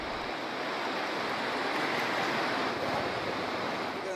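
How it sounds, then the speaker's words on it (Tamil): Agasthiyar waterfall at Papanasam in heavy flood, a dense, constant roar of falling water that fills the whole clip with no let-up. "அகசியர் ஃபால்ஸ் தண்ணி நிறையா விழுது."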